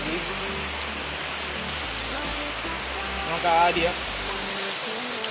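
Rain pours steadily, with water running off a sheet roof in a dense, continuous rush close by, and a voice speaks briefly over it.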